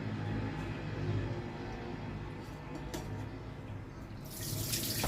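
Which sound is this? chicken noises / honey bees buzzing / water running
water running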